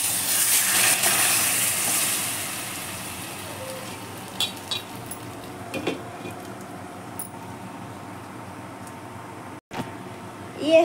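Tadka of red chillies and red spice powder sizzling in hot oil for dhaba-style palak dal, a steady close hiss that is loudest at the start and eases off, with a few faint clinks and stirs.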